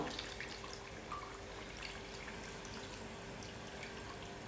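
Water is poured into a pan of pandugappa fish iguru that already holds onion paste, giving a faint, steady trickling and splashing that runs throughout with no talking.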